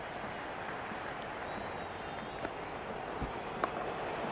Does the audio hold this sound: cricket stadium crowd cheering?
yes